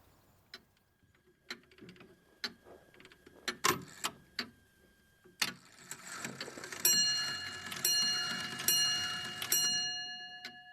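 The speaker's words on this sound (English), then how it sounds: "and Chris often has an early alarm call." Alarm clock going off in the early morning at a Norfolk farm: a few scattered ticks and taps, then a loud repeating ringing alarm that carries steadily to the end.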